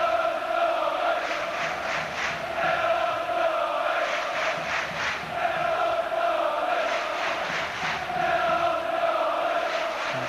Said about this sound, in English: Dennis Wise orchestrating the crowd.